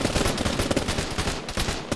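Dense, continuous automatic gunfire and rapid shots in the military video game Arma, loud and close, with bursts overlapping in a sustained barrage and no voices.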